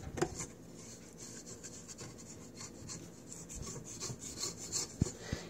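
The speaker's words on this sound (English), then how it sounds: "let's stop this and scrape down the dough" Bread dough, a sourdough, being scraped down inside a mixing bowl, giving a steady close rubbing and scraping texture with a few sharper knocks near the end, no talking.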